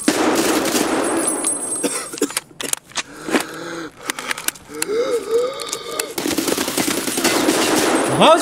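Automatic rifle fire in Escape From Tarkov, a first-person shooter game, loud bursts of rapid shots broken by short pauses and gear handling sounds, with heavy firing resuming strongly at the end.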